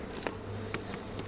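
Faint, steady honey bee buzzing hums in the background at a beehive nuc, with a few soft tapping sounds scattered through it.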